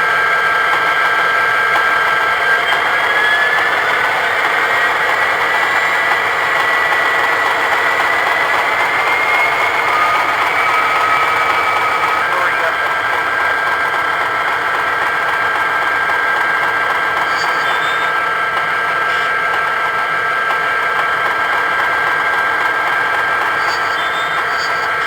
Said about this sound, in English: get it running so you guys can hear the background noises as well as the engine rev up